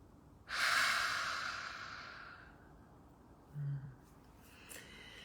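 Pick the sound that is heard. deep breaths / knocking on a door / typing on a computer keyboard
deep breaths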